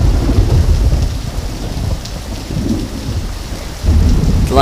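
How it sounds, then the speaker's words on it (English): Thunderstorm with lightning in a Hammer editor game map: steady loud rain hiss throughout with deep rolling thunder rumbles, swelling near the start and again strongly at the end. "the lightning can become a convincing, realistic thunderstorm in any situation"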